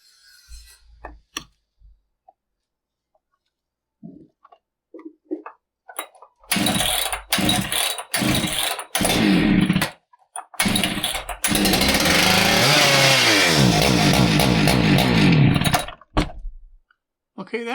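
A Husqvarna 395XP chainsaw with an idle fault sputters through several short start attempts, then roars to full revving for a few seconds before dying back to silence; brief talk comes before the engine catches.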